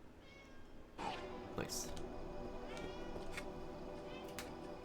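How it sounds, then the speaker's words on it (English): Pet cat meowing loudly indoors, a couple of drawn-out meows close by, with someone briefly speaking and faint clicks and game sounds underneath. "I'm gonna grab a kitty, because you're being loud."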